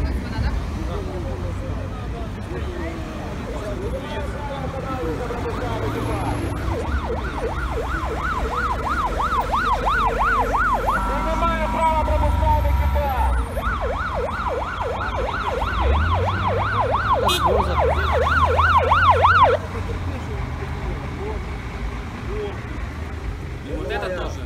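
A loud wailing ambulance siren cycles up and down, then pauses and resumes, close by, with traffic rumble and people talking underneath, on a street in Odesa.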